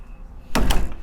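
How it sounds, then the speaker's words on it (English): A door swings shut with a single solid thud, sudden and close after a quiet moment, with a brief rattle trailing off. "Here's the sound of the door closing."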